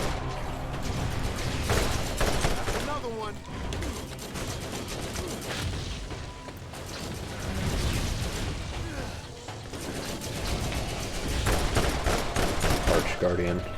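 A heavy gunner enemy in Borderlands lets loose with a machine gun, long rattling bursts of rapid fire with mechanical clatter, loud and close, easing off briefly before the shooting surges again.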